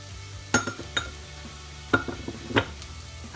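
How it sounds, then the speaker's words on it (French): Flour cooks in butter in a pan to make a roux, with a soft sizzle under sharp scraping and clinking strokes of a utensil stirring at irregular intervals. "Je vais maintenant faire un roux avec de la farine"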